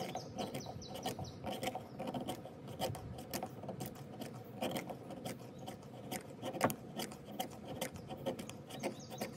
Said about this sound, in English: I'm gonna go ahead and make a big pile of shavings and scrapings.